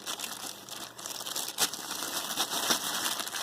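A large plastic bag holding a desktop phone stand crinkles and rustles continuously up close, with a few sharper crackling bursts as it is handled.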